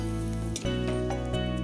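Beaten egg and tortilla mixture sizzles steadily in a hot frying pan, a close, continuous crackle with a brief dip and a few stirring scrapes, no talking.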